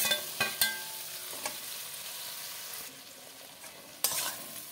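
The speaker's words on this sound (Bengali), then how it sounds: "আলুর সাথে মশলাটাকে ভালো করে কষাবো।" A spatula stirs spice masala with fried potatoes in a hot pan, several sharp scraping knocks over a soft sizzle, close and without speech.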